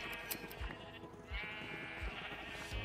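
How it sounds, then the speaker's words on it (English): Minecraft sheep bleat in a barn on a 1.18 survival server, several short nasal bleats repeating over a steady game ambience, with soft low thumps recurring at intervals. "All these beautiful sheep are getting sheared."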